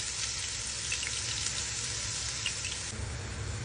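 Chopped garlic, ginger, onion and pepper sizzle steadily in hot oil, a soft, even frying hiss with no voices.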